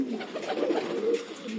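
Madrasi pigeons coo softly and continuously at close range, a low murmuring warble with no talk over it.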